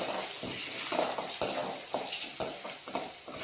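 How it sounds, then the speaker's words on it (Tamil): Garlic fries gently in hot oil, a soft bubbling sizzle broken by light clicks and taps of a stirring spoon against the pan. "நல்லா பூண்டு வந்துட்டு நல்லா வறுத்து வரணும்"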